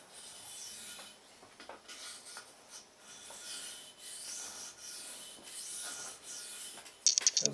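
A VG10 steel knife blade is worked across a whetstone in repeated rasping strokes, each a soft scrape with short pauses between, close and fairly quiet.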